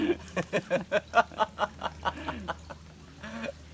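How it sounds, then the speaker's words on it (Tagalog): A wild duck caught from a creek gives a quick, close run of about a dozen harsh, evenly spaced calls, then falls quiet before one longer drawn-out call near the end. "Wild duck, wild duck."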